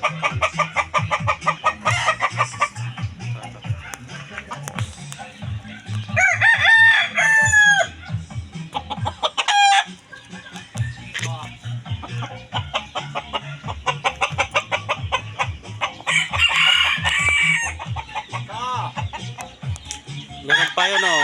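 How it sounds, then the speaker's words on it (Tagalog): Many chickens cluck continuously close by while roosters crow loudly twice in long rising calls, a busy farmyard chorus, with a little talking mixed in. "Ang daming manok dito."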